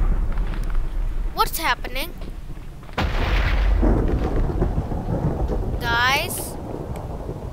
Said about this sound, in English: Oh, that's just a thunderstorm